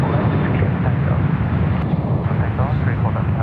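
A passenger jet takes off from Sydney Airport, a loud, steady roaring rumble close by that fills the whole stretch, with a voice talking briefly over it.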